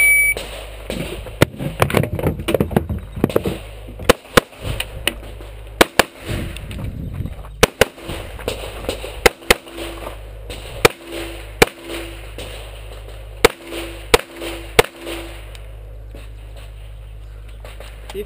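Gunshots fired on a range during a military shooting exercise: a dozen or so sharp, loud single cracks at irregular intervals over a continuous low engine drone, with brief bursts of distant radio-like chatter.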